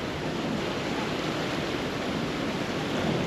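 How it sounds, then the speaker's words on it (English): Ford F-150 FX4 pickup plowing through feet of floodwater on a road after Hurricane Ian, a constant loud rushing wash of water and spray that continues steadily throughout with no talk. "We're driving through feet of water."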